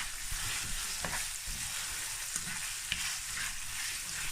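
Onion and garlic sautéing in a pan give a steady, close sizzle with a few soft stirring taps throughout and no voices.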